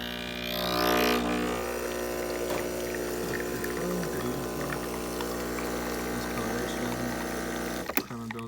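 A repaired Breville XL espresso machine with a newly replaced water pump hums steadily while pulling a shot, a continuous close drone with a soft rising whoosh near the start and a brief clunk near the end.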